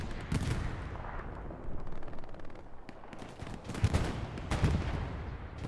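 Artillery and gunfire in the video game Hell Let Loose, a 49 vs 49 competitive match on the Utah map: a continuous rumbling din of shots and distant blasts, with several louder booming impacts rising out of the clutter.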